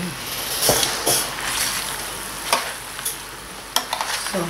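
Seafood pasta with olive oil being stirred in a hot pan: a continuous sizzle broken by several sharp scraping and clattering strokes of the utensil against the pan, close and fairly loud.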